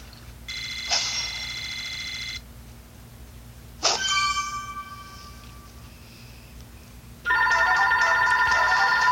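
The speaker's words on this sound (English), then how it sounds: "my phone is ringing again" A phone rings in three separate bursts of bright, buzzing electronic tone with quiet gaps between them, the last burst louder and fuller.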